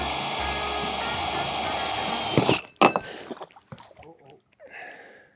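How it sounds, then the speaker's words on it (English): A power drill boring a hole in a boat to mount a trolling motor, whining steadily and loud for a couple of seconds, then cutting off with brief clatter and rustling afterward. "I can try drilling the second hole and see what happens."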